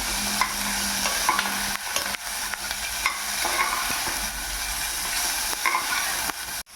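Chopped onion, garlic, ginger and green chilli sauté in oil inside a pressure cooker, producing a continuous close sizzle with occasional scraping stirs and no talking.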